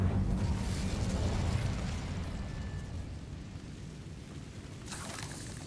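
A fiery spell blast in Hogwarts Legacy bursts loudly at the start, then trails into a lingering rumbling roar, with a second brighter flare near the end and no voices.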